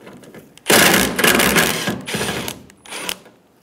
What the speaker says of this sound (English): Using a T40 bit, we're going to remove the bolt for the bracket.